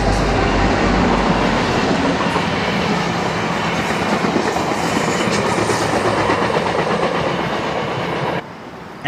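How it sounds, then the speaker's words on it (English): A North Star commuter train speeding past on the BNSF line, a loud close continuous rumble and wheel clatter that holds steady before cutting off abruptly near the end. "Mere minutes after the Z train cleared, we'll see North Star zipping past,"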